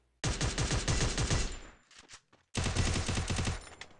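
Rapid automatic gunfire from the Free Fire video game, a loud burst of evenly spaced shots lasting over a second, a brief pause with a few small clicks, then a second sustained burst, close and with no speech.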